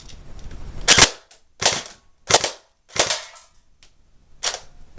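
A Crosman Pulse R76 airsoft gun fires on full auto in several short, sharp bursts of clattering pops, each separated by brief pauses, close and fairly loud.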